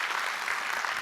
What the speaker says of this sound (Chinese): 所以我们真的是要给 Riway 一个掌声